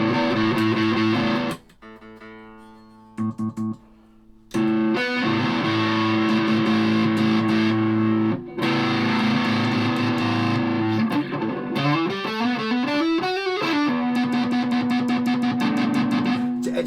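A Manson/Cort MBC-1 electric guitar plays through heavy distortion, loud sustained chords and held notes with a short break, then a bending, sliding phrase that settles into one long tone.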